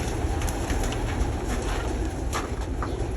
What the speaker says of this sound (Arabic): خليك معايا يا عم احمد، ومربي في الفخار ده حمام بلدي